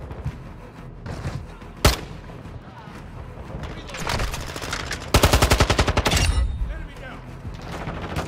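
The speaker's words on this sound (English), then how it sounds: "I can hear this guy trying to shoot this down." Automatic machine gun fire in Modern Warfare II multiplayer, with bursts and a sharp single shot early, then a loud rapid run of rounds near the end over steady game ambience.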